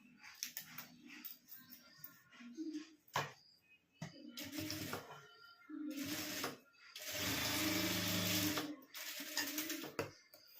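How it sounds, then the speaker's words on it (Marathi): Home sewing machine stitching a traditional cloth pouch (batwa), with short clicking bursts followed by longer runs of close whirring machine noise, the longest about two seconds. "आता आपल्याला हे असं धरून याला पहिले टीप मारून घ्यायची आहे"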